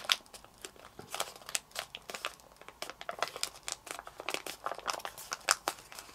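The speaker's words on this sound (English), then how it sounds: "we're going to make a new fold between this point and this point. And let the bottom swing out as you fold it up" Paper being folded and creased into a snowman origami pop-up card, giving close, crisp crinkles and rustles in an uneven run of bursts, with no talking over them.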